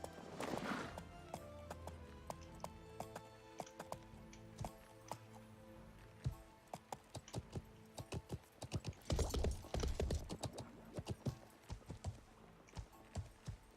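Horse hooves clip-clop in the video game Life is Feudal, a series of sharp, fairly faint knocks in irregular clusters, denser in bursts, with occasional louder clattering passages.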